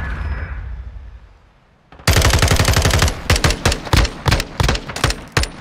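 Machine gun fire in Modern Warfare 2, a quiet lull followed by a loud, rapid stream of close shots that breaks into several short separate bursts.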